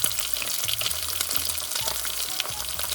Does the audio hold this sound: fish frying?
yes